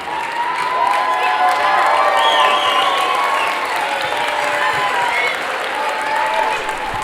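An audience at the Aronimink school spring concert claps steadily for the performers taking their bow, a dense, continuous burst of applause mixed with cheers and a few children's shouts.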